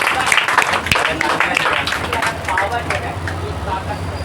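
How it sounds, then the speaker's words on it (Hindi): A room full of people clapping steadily and densely for several seconds, a crowd of hands together with a bit of chatter mixed in. "इस बात पे तालियां तो हो ही जाएं। बजाओ"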